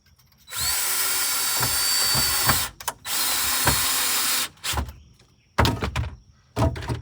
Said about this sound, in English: I'll go ahead and drill one hole in